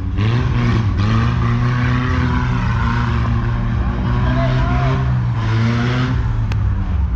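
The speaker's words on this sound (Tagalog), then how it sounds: "Grabe, napakaingay kanyang exhaust." A 4x4 off-road vehicle with a very loud exhaust races toward the finish line of a sand-course challenge at Porac, Pampanga, its engine droning steadily and close throughout, with pitch rising and falling slightly as it runs.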